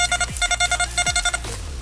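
Metal detector signal tone over a buried target: a rapid series of short electronic beeps in two bursts, close and clear, with faint low sweeps underneath.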